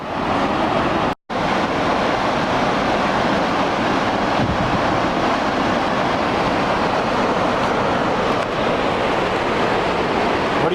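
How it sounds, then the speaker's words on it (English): A steady, loud roar of rushing water at Sandstone Falls fills the whole stretch without letup, broken only by one brief dropout near the start. "Hear the sound of those falls just roaring."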